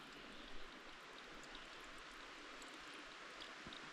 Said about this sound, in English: Right here down in this little valley with that little creek over there.